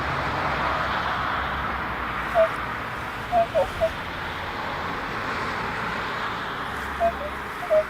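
Road traffic passing near a field during metal detecting in Canada, a steady broad roadway rumble with wind, faint bird chirps sprinkled through.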